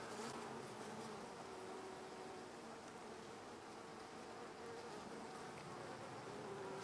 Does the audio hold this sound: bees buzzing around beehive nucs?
yes